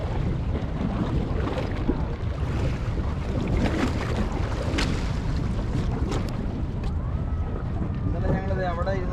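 Lake Michigan water laps along the Chicago shoreline by moored boats, a steady rushing wash mixed with wind noise, with faint voices in the background.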